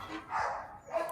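Dogs barking in a Jamaican backyard after rain: a couple of short mid-range barks at moderate distance over quiet outdoor background.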